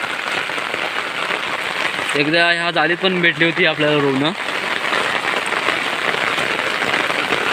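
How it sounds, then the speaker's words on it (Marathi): Heavy monsoon rain pours steadily over flooded rice paddies in Konkan, a dense unbroken hiss throughout, with someone speaking briefly over it near the middle. "पाऊस भरपूर आहे"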